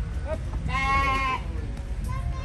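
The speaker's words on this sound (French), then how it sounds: "Il y a des moutons, ils vont te courser fort." A flock of sheep bleats as it approaches, a wavering cry rising over steady wind and outdoor rumble, with people talking nearby in French.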